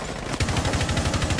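Rapid automatic gunfire in a first-person shooter, fired through a wall: a quick burst of fast, evenly spaced shots that kicks in abruptly after a brief lead-in and rattles on steadily, close and loud.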